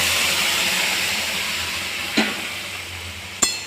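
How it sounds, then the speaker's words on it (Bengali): Ghugni stirred with dry-fried spices in a hot pan gives a steady, close sizzle, broken by two short scraping knocks of the spoon against the pan near the end. "এইবার এটাকে ভালো করে বেশ কিছুক্ষণ ধরে আমি নাড়িয়ে নেব"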